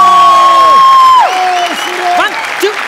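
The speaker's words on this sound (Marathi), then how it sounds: "एकदा जोरदार टाळ्या सरगमसाठी" A studio audience at a comedy show applauds for Sargam, with loud crowd clapping running beneath drawn-out voices and cheering calls that sit on top of it.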